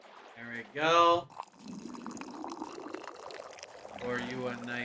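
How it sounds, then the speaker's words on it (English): Tea is poured in the video game Wanderstop, a soft, continuous liquid trickle lasting a few seconds, framed by brief speech before and after. "Pour you a nice old cup, friend"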